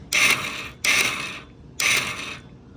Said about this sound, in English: you can see the starter's working.